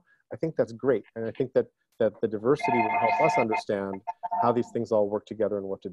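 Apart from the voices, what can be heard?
phone ringing in the background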